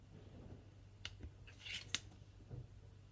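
A knife slicing through a polymer clay birthday cake, giving a few close, quiet scraping and snipping cuts over a low steady background hum.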